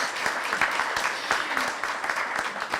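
An audience at the unveiling of a new pavilion at Locust Grove in Louisville gives modest applause. The clapping is steady and moderately dense, with a few distinct claps standing out nearby.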